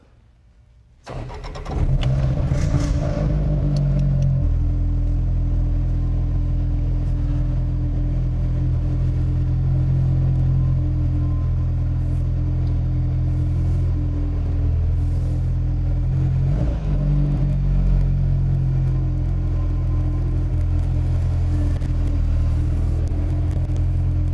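A 2020 Volvo P1800 Cyan engine starts with a sharp catch, then idles and runs with a deep, steady rumble close by, a brief rev partway through.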